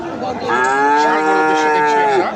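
A Friesian cow at a cattle market gives one loud, close, drawn-out moo that swells and trails off over a couple of seconds.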